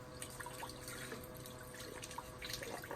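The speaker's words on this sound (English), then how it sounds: "we've got our little weak stream of water here" A weak stream of water from a faulty Costway propane shower head trickles and spatters faintly and steadily, close by and quiet.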